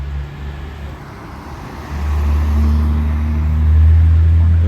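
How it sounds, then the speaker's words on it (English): BMW M6 on air suspension, its exhaust a deep low rumble that swells louder partway through and holds steady close by, with road traffic noise around it. "Naughty sounding M6."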